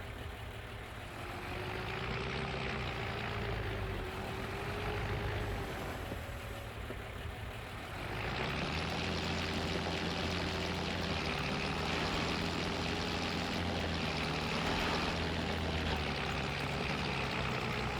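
A Lizard F10 series tractor engine in Farming Simulator 22 drones steadily as an AI worker turns it around, its pitch dipping and then rising again as the load changes midway.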